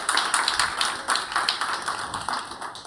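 Audience applause at a DigiEduHack main stage event, with rhythmic, fairly close clapping that pulses in regular beats over a few seconds.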